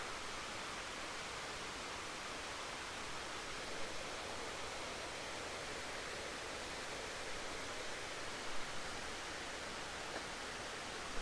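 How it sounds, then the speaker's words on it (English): Waterfall at Carpenter Falls, a constant broadband rush of falling water heard steadily throughout without talk. "Another waterfall there."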